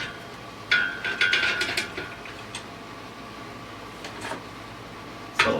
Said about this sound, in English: Just tighten the first thumb screw.